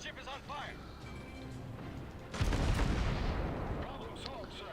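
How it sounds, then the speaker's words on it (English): Defensive anti-aircraft fire from a warship in a naval combat video game, a sudden dense burst of rapid booming shots that starts midway and rolls on, following a stretch of game sounds and background voice. "So I'm going to go ahead and use my defensive fire."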